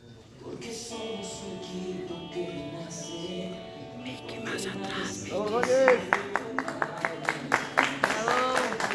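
Applause at a civic ceremony in El Alto honoring Club Always Ready for its promotion, greeting Fernando Benigno Ordóñez Calderón: a voice speaks over music, then loud, sharp clapping builds and continues rhythmically.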